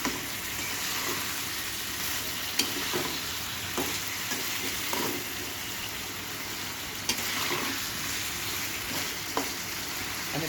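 Egg and meat curry fries in a pan with a constant busy hiss, punctuated by scattered stirring scrapes and small knocks, close by and free of speech.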